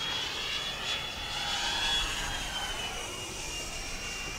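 An HSDJets 120mm EDF T-33 model jet on its maiden flight roars past overhead, its high engine whine sustained and loud, drifting slightly in pitch as it flies by.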